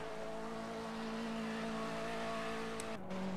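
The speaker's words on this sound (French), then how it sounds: "vous devriez peut-être un peu plus entendre les voitures en fond" BMW 320 race cars at the Imola circuit, a distant steady engine drone with sustained tonal whine, faint in the background, shifting pitch near the end.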